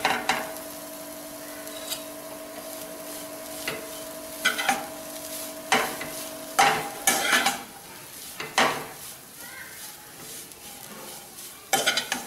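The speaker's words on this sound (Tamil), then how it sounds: "உரப்பு எல்லா பக்கமும் சேர மாதிரி கிண்டுனா போதும்" Beetroot cutlet mixture with steamed vegetables and spice powder is stirred in a pan, giving repeated spoon scrapes and knocks against the metal over a faint sizzle, in irregular bursts with quiet gaps.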